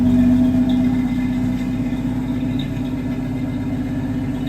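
A 1965 Ford Mustang engine runs at a steady idle, with a close, even low rumble and faint rhythmic pulsing throughout, heard alone without voices.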